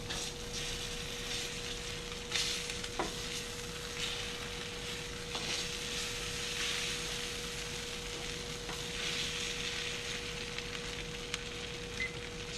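A pork chop, just flipped, sizzles steadily in a hot pan during a modified reverse sear, with a continuous hiss and occasional small pops and crackles, close and even throughout.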